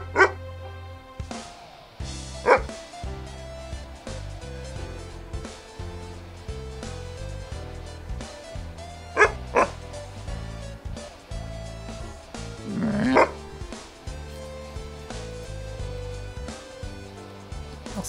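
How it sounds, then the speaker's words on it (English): Several separate dog barks from a friendly dog in the mobile adventure game AWAY Journey to the Unexpected, spaced across a musical game soundtrack, with sharper yips rising near the end. "Is that a friendly dog? He looks friendly."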